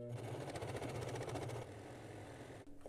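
A sewing machine stitches an adjustable apron strap in a fast, rapid-fire rhythm for about a second and a half, then settles into a softer, slower hum before stopping near the end.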